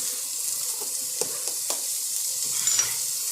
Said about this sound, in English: we're going to just put a little butter to help those vegetables along